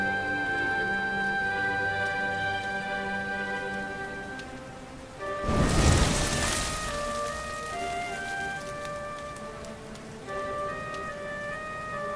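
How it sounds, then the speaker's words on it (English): Rain in the Dragon Quest XI video game, a soft steady patter under sustained musical tones, with a brief louder wash of noise midway. "Looks like the rain's dying down."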